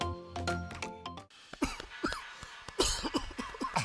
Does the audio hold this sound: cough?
yes